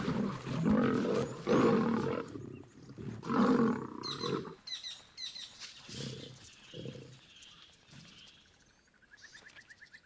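Wild male lion brothers fighting in the Timbavati bush, loud close roars and snarls in heavy bursts over the first seconds, then quieter growls with bird chirps and insects behind.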